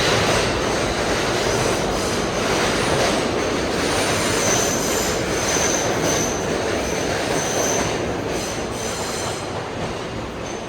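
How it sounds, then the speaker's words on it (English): Subway express train rushing into Times Square-42 Street station, a loud sustained rumble of wheels with squealing metal and rhythmic clatter, fading slightly at the end, heard close on the platform. "That sounded like an express train."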